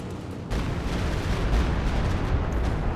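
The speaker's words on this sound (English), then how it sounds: "Oh, nice Stuka hit not only the Jackson, but also the captain and rifle squad." Stuka dive bomber strike in Company of Heroes 2, a sudden loud explosive blast that gives way to a sustained rumbling roar of battle, dense and close with no talk.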